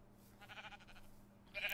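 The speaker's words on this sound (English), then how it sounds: "Yep, sheep." A single short sheep bleat from the TerraFirmaCraft game, faint and thin over quiet background, brightening at the very end.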